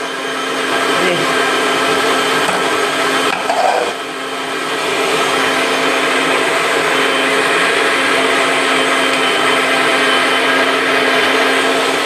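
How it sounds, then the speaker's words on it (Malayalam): A mixer grinder runs steadily, grinding grated coconut into a paste in a home kitchen, with a loud, continuous motor whine throughout and a brief dip and bump in the middle. "ഇനി നമുക്ക് അരപ്പ് കൂട്ടാം തേങ്ങ അരച്ചെടുക്കാം"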